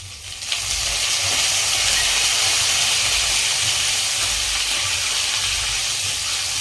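Curry leaves hit hot oil in a pan on a lowered gas flame while sabudana khichdi is being made, giving a loud, steady sizzle and hiss that flares up after a brief quiet start.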